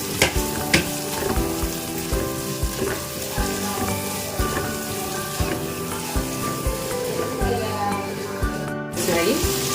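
Onions frying toward golden brown in a pan for a Kerala-style fish curry with coconut milk and raw mango: loud, dense sizzle with rhythmic spatula scrapes and stirring knocks close up, briefly dropping out near the end.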